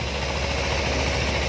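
A 2016 Kawasaki Ninja 250 SE KRT motorcycle idles close by, its steady engine drone loud and unbroken throughout.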